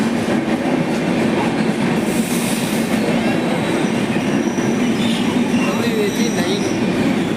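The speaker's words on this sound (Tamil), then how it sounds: "நம்ம ட்ரெயின் வந்துருச்சு. பூட்ஸுக்கு போடுற லோக்கோவை போட்டு நம்ம ட்ரெயின் வந்துட்டுருக்கு" A locomotive-hauled passenger train of ICF coaches rolls into a station, its continuous rumble, wheel clatter and occasional squeal filling the whole span at close range, with faint voices beneath.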